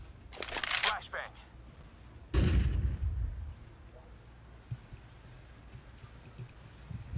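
A flashbang grenade in Counter-Strike 2 goes off as one loud, sharp burst that fades over about a second, preceded by a shorter crackling burst. A person speaks quietly through the rest of the clip.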